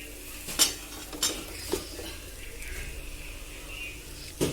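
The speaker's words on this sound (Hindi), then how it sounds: "देखिए नारियल का किस मम्मी ने डाल दिया और उसको अच्छे से मम्मी मिक्स कर रही हैं।" A spoon stirs grated coconut in a pan, giving soft scraping and a few distinct clinks of metal against the pan over a faint low sizzle, close and fairly quiet.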